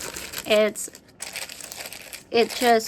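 Thin deli paper crinkles and rustles up close in short bursts while someone speaks briefly over it.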